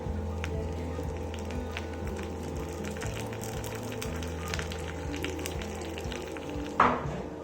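Mustard seeds and urad dal temper in hot sesame oil for raw onion chutney, a close steady sizzle with faint crackles and a brief louder pop near the end, no talking.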